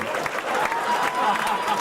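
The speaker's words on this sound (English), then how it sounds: "Clap for them." Comedy club audience at the Punch Line in Walnut Creek applauds, a dense steady patter of many hands close by, with a voice briefly heard over it.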